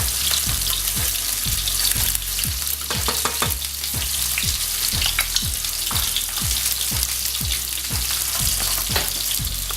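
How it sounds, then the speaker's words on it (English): Tomato sauce being stirred in a hot pan over medium heat while steaks fry alongside, giving a steady loud sizzle with a regular rhythm of scraping stirring strokes about once a second. "on medium heat I'm just going to add my tomato sauce in and stir that around"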